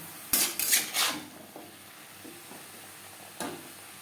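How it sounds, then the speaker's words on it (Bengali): Vegetables tossed with salt and turmeric in a pan for a vegetarian Bengali curry: a quick cluster of close spatula clinks and scrapes early on, then a faint sizzle and one more clink later. "লবণ হলুদ সবজির সাথে বেশ ভালো করে মিক্সড করে দেবো"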